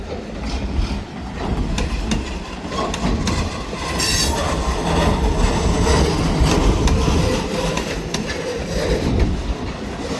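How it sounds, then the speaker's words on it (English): An SD9 diesel locomotive hauls a train alone in cold weather, with continuous loud rolling rumble, rail clatter and wheel squeal, the wagons rattling steadily and nearby for the whole stretch. "who knew this train would be moving"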